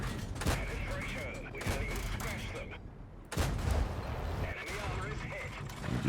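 Tank cannon fire in the World of Tanks game with the Gabler's Destroyer: sharp booming shots and rumbling battle noise sound under someone talking throughout.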